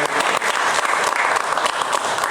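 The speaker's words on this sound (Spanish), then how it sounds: "vamos a darle un aplauso sonoro de nuevo a nuestra expositora" Audience in a lecture hall giving loud, sustained applause, a continuous wash of clapping throughout.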